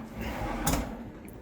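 A hotel room drawer holding the in-room safe slides open with a short wooden scrape and soft thump, close by and alone, in a room at the Trident Hotel in Mumbai.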